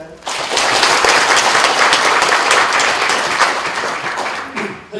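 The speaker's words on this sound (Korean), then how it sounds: "우리 파이팅하는 의미에서 박수 한번 칠까요?" Audience applause at a lecture by a professor in Hwasun, a steady wash of many hands clapping that swells quickly and holds loud for several seconds, with some voices mixed in underneath.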